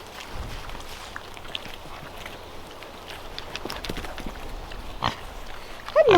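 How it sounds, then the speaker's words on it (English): A pregnant sow on a farm gives soft, faint grunts amid shuffling and footstep-like noises, with a few louder bursts near the end. "Here's our little pregnant sow."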